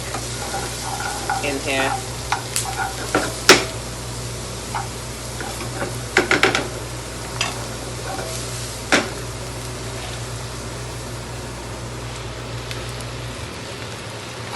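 Onion and garlic sizzle steadily in a hot pan for bhaji, a constant frying hiss broken by sharp spatula scrapes and stirring clatters, with a brief spoken remark.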